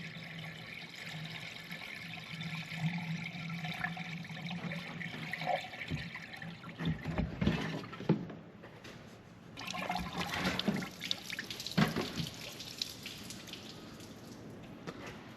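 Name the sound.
antifreeze pouring into engine radiator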